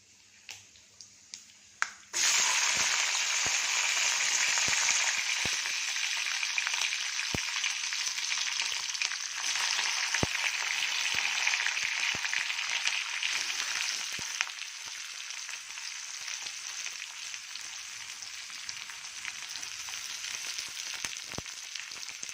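Green and red chillies, curry leaves and onion hit hot oil in a pan and set off a loud, steady sizzle that begins abruptly after a quiet moment and carries on with faint clinks.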